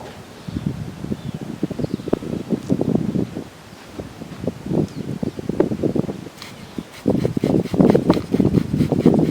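Wind blowing outdoors around a horse during a fly-spray lesson, gusting in uneven waves with rustling and buffeting against the microphone, louder toward the end.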